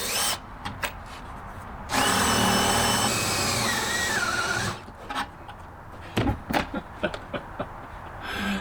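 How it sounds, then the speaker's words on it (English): Power drill boring into a truck camper tie-down point, a steady high whirring run of a few seconds between short bursts of clicks, knocks and handling noise from the work. "Let me just get this drilled in here first."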